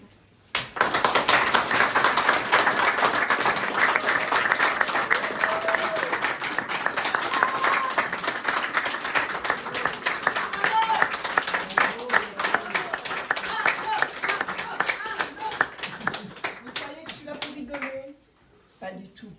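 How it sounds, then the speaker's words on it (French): An audience applauds at a gallery's 40th anniversary celebration, a dense, sustained round of clapping for about eighteen seconds that thins out near the end, with voices mixed in. "On va applaudir et on va souhaiter un joyeux anniversaire à la galerie qui fête ses 40 ans, nous tous ensemble."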